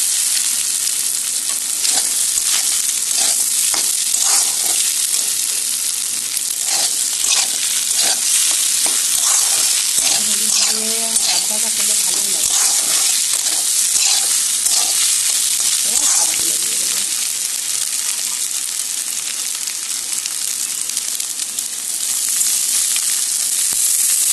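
Rice fried with egg, onion, potato and panch phoron sizzles steadily in a pan while a utensil stirs and scrapes in repeated strokes. A voice is heard briefly in the middle.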